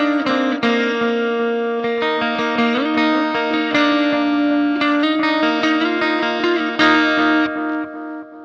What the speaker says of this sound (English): I'm using the Electric Love delay, but you can use any delay that you have.